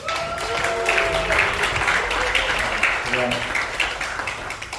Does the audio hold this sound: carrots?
no